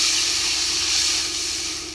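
Water poured into a hot pan of fried brinjal and potato sets off a loud, close, continuous sizzling hiss that fades slightly toward the end.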